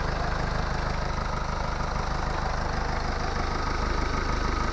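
A 2017 Mercedes E-Class engine idles steadily under an open hood, a continuous even low hum with regular pulsing and no voices.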